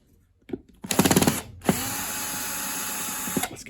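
A power tool whirs in short bursts and then a longer steady run while backing screws out of a Numatic Henry Micro vacuum, with a few clicks of handling between bursts.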